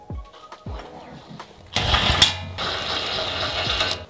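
Ratcheting wrench breaking loose the 19 mm bolts that hold the spindle to the lower control arm on a Toyota Tacoma, heard as a few faint clicks and then a loud, dense burst of metallic ratchet clatter close by.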